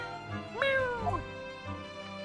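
A cat in The Great Ace Attorney game gives one clear, drawn-out meow, close and prominent over a soft background music bed.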